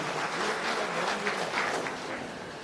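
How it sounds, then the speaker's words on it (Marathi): A crowd at a government outreach gathering in Kankavli applauds a women's self-help group, producing a dense, even wash of clapping that holds steady and tails off slightly near the end. "जोरदार टाळ्या हरकतच नाही"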